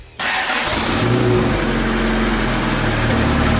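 A Honda Civic fastback's engine cranks and catches with a sudden loud start, then settles into a steady, close, rough-edged running drone that swells slightly as it revs for a few seconds.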